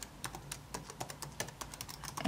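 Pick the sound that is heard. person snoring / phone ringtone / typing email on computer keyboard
typing email on computer keyboard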